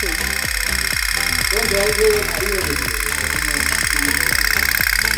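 A steady motor boat engine chugs with a regular knocking rhythm, close and loud throughout, with a voice speaking briefly over it midway.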